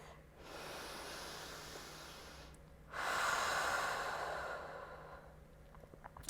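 Deep breaths during a vinyasa yoga side-stretch flow: a long, airy exhale followed by a stronger, louder breath, close and alone with no talking.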